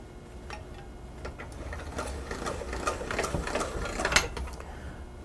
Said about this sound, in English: So now I just want to run this through my fettuccine cutter.